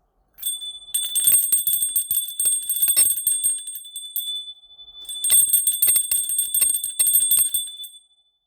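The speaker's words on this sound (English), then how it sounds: "let's ring the bell again" A small bell rings out clearly in two bright sustained bursts, each a few seconds long with rapid repeated strikes, separated by a short pause, with no talking.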